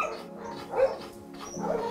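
Dog at an animal rescue shelter barking and yipping, a few short barks with whimpering tones heard at moderate distance over a steady background, no clear talk.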